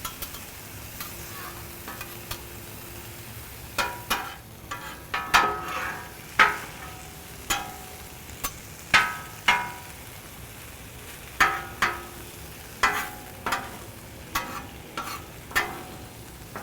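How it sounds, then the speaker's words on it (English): Beef with onions and peppers sizzles softly on a griddle for a Baja California cheesesteak while tongs tear the meat apart, giving repeated sharp metallic clacks over a steady frying hiss, with no talking. "I'm just using the tongs to try to tear the meat up into little pieces."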